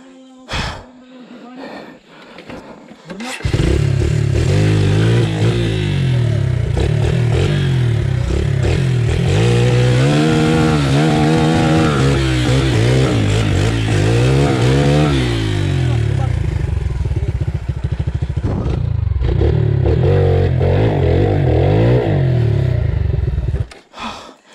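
An enduro motorcycle labours along a technical dirt trail, its engine droning loud and close with revving swells, while riders talk and exclaim over it.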